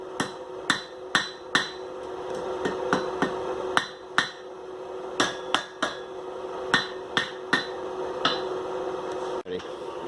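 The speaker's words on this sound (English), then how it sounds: "lay the hook over the edge and then bend it down against the side of the anvil" Sharp metallic hammer strikes ring out at an irregular pace as a blacksmith bends a hot iron hook down against the side of an anvil, about a dozen clear blows over a low background hum.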